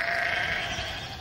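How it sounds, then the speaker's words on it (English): Sheep bleating in a farm field about to be ploughed for a crop, a steady sustained chorus of bleats filling the clip at a fairly loud, close level with no talk. "So how do you clear sheep?"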